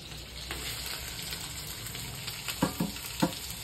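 Curry leaves dropped into hot oil in a home kitchen, giving a steady close frying sizzle with a few sharper crackling pops near the end, no talking.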